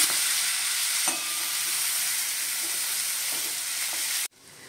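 Carrots and brinjal sautéed and stirred in a pan for a Bhogi mixed-vegetable dish, giving a loud, dense, steady hiss of frying up close, with faint stirring knocks, then cutting off abruptly near the end.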